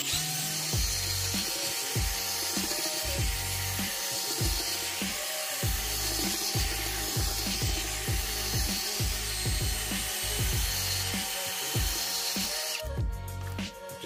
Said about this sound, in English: this Milwaukee Fuel brushless is able to mix this batter just fine